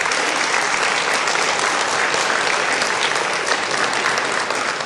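Studio audience at a TV talk show claps in a dense, loud, continuous burst that holds steady from start to finish with no voices on top.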